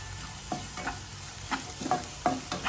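Ginger garlic paste frying in a pan under a quiet, steady sizzle, with about six distinct spatula scrapes and taps at irregular intervals.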